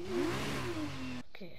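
An F2 race car engine in a racing game revs high and sweeps up and down in pitch as it accelerates, loud and continuous, then cuts off abruptly near the end.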